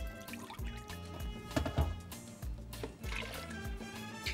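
Water is poured into a blender with milk and sugar for sweet zucchini cupcake batter, making a close, gurgling, splashing pour with uneven surges and drips, and no talking.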